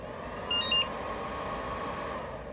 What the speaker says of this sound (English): Hear a beep